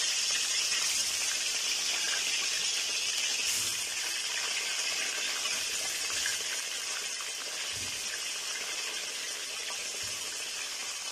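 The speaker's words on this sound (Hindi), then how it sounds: "तो अभी हम सारे आलू जो है ऑयल में डालेंगे।" Potatoes for aloo karahi hiss and sizzle steadily in hot oil, a continuous loud frying wash with faint clinks, with no talk.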